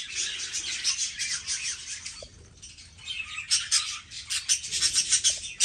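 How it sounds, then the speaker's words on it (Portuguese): A group of pet budgerigars chirps and squawks continuously at close range, busy and bright, with no talking. "Meus periquitos."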